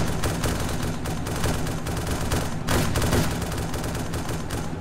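Dense, continuous gunfire from a combat video game, rapid overlapping shots forming a loud, sustained barrage with a sharper burst partway through.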